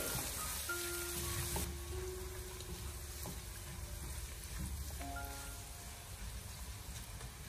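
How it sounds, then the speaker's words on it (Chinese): Doubanjiang bean paste stir-fried in a wok over low heat, with pork, giving a soft continuous sizzle and faint spatula scrapes, close and steady without talk. "再往锅中添加一勺豆瓣酱，然后再继续的小火翻炒，把酱料翻炒出酱香味"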